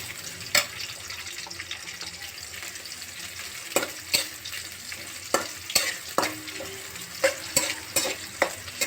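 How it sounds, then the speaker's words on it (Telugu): Onions frying and being stirred in a pan for a gongura chicken dish: a steady sizzle with a series of sharp scraping stir strokes and clatters, close and moderately loud, with no talking. "కొద్దిగా వేగుతానే మనం ఆనియన్స్ వేసేస్తాము. ఇది కూడా బాగా వేగాలండి."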